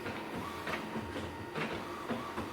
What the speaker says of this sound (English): Printer's making noise.